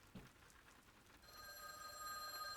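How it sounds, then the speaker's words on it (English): An old telephone rings in the visual novel Witch on the Holy Night, starting partway through as a bright, sustained metallic bell tone over a soft rain-like hiss, growing slightly louder, with no talk. "The phone's insistent ringing continued."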